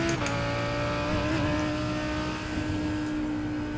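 A GT3 race car in iRacing screams at full throttle through a fast slalom section at Sebring, its engine a loud, sustained high-revving drone with a brief tire squeal at the start.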